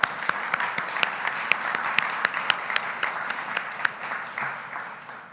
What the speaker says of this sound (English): Join me in a round of applause for both of our sponsors.